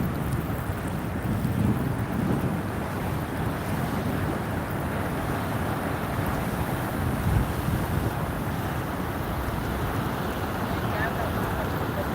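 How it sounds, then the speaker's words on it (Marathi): Rough sea with big, high waves crashing, a continuous loud roar of surf mixed with wind buffeting the microphone throughout. "हे बघा मित्रांनो खूप मोठे मोठे लाटा येतात उंच उंच लाटा येतात"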